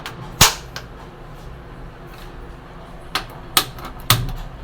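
Sharp, snappy igniter clicks from a gas stove: one early click, then three more in quick succession after a pause.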